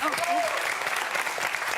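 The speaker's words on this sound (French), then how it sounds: "Ça s'applaudit, ça aussi, quand même." Studio audience applause on a French talk show, a brief burst of clapping with a voice briefly overlapping at the start, moderately loud.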